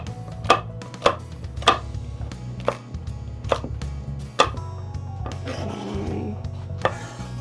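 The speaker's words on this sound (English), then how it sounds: "Cut up this onion." An onion being chopped on a board, several crisp evenly spaced knife thuds up close, with a brief rustle near the end over a low background hum.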